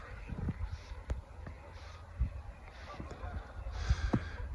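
Geese honking on the far side of a river, faint and distant, scattered calls repeating every second or so over quiet outdoor background, with a soft voice now and then.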